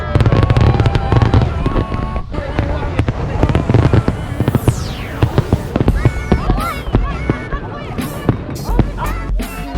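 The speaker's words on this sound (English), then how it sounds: "Fireworks." Fireworks crack and boom loudly and repeatedly at a Fourth of July tailgate party by an RV camp, irregular bursts with whistling streaks and crackles, while people chatter and shout nearby.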